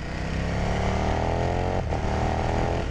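A 2021 KTM 1290 Super Duke R, a 180-horsepower naked motorcycle, accelerates hard on the road. Its engine note climbs loud and close, with a brief dip at a gear change before rising again.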